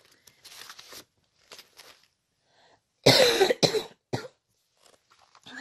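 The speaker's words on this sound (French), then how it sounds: "je vais tousser" A person coughs in a short burst of several loud, close coughs, preceded by quieter rustling and small shuffling noises.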